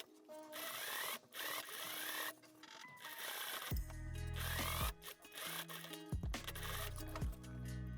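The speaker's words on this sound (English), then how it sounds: "You can either try to stitch in the ditch right here to fix the waistband in place" Sewing machine stitching a waistband onto a basic skirt, a continuous close mechanical whir broken by short pauses and changes in speed, with no talking.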